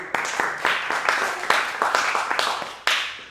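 A theatre audience at the Hollywood Fringe Festival claps in short, uneven bursts with a few whoops, each burst swelling and fading, loud and close.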